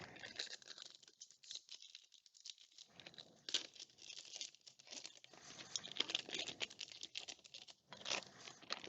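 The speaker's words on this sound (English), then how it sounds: "Bottom right-hand corner just doesn't want to open up for these packs." A trading card collector booster pack being torn and crinkled open, with irregular bursts of foil crackling and papery ripping, close and fairly quiet, pausing briefly before resuming.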